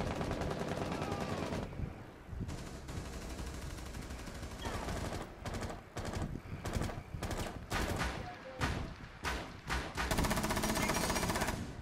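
Continuous video game gunfire with rapid automatic bursts and repeated shots, loud and close, broken by short pauses and a final sustained volley, with no voices.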